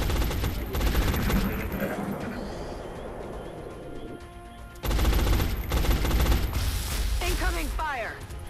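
Bursts of automatic gunfire from a turn-based X-COM squad battle, dense and continuous with a louder stretch in the second half, mixed with game effects and a voice speaking over it.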